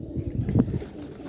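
Light-coloured domestic pigeons giving a soft, low coo near the middle, close by, over a muffled background rumble.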